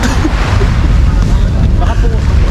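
Constant loud rush of wind and water against a moving boat on an island tour at El Nido, with a motor rumble underneath and voices faintly mixed in.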